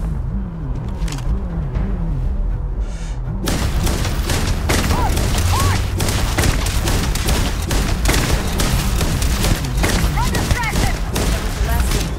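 Gunfire from a gun in Starfield, a dense, loud barrage of shots and booms that begins abruptly and continues rapidly throughout, with players talking over parts of it.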